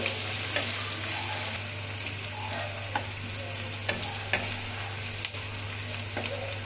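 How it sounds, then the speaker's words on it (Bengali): Onions fry in hot oil with bay leaves in a pan for Kolkata-style ghugni, a soft steady sizzle with occasional sharp stirring clicks and scrapes, without speech. "পেঁয়াজটা একটু ভাজা ভাজা হবে"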